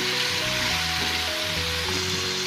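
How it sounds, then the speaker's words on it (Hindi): Chopped onion, carrot, capsicum and green chili lightly frying in a pan for an egg pizza frittata, giving a steady, close hiss of sizzling with faint tonal music underneath. "सारी सब्जियां डालकर हम इनको हल्का सा फ्राई कर लेंगे।"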